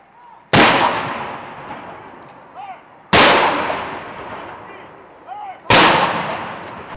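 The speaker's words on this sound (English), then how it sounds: "fired a ceremonial 19-gun salute honoring the new governor" Three booming field artillery rounds from a ceremonial 19-gun salute for a new governor fire at steady intervals of about two and a half seconds, each loud blast trailing into a long outdoor echo.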